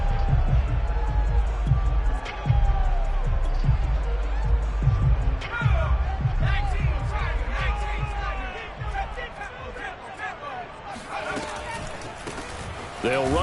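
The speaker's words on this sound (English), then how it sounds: "And this crowd loves it as their guys hold on the opening drive." A stadium crowd at a Panthers vs Giants football game roars and cheers after a defensive stop on the opening drive, a steady broad swell of noise beneath continuous play-by-play commentary.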